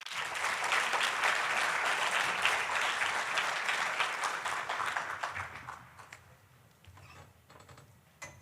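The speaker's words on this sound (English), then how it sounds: "Please join me in giving Ms. Ryan a round of applause" A conference audience at a violence prevention general session gives a long round of applause that holds steady, then dies away into scattered claps and quiet room noise.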